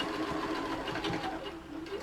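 Domestic sewing machine stitching a fabric Japanese omiyage bag at stitch length 5, a steady fast mechanical whir running close and continuous for the whole span with no talk over it.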